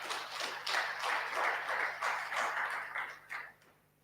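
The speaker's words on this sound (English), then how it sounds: "So a round of applause." Audience applause at a business conference in a hall, a steady patter of many hands lasting several seconds before tapering off, moderately distant and without talk over it.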